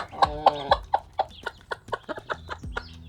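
Hens clucking in a backyard garden flock, a run of short, close clucks in a steady rhythm with a few louder calls, no talking over them.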